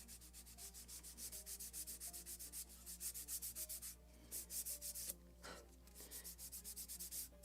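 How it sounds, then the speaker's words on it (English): Wooden planking on a model of the 1776 gunboat Philadelphia is polished by hand in quick, regular back-and-forth rubbing strokes, close and crisp, with a couple of short pauses and a faint steady hum beneath. "now polishing"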